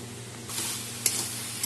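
A spatula stirs pointed gourd, potato and soybean with spices in a wok, quiet sizzling with a brief swell and one sharp scrape midway, then another small knock near the end.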